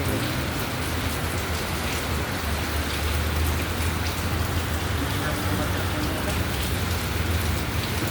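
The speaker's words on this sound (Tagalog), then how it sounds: "Ganito dito guys sa Tagaytay pagka umuulan." Rain pours steadily in Tagaytay, a dense, even hiss of drops on surfaces lasting throughout at close range, with faint speech underneath.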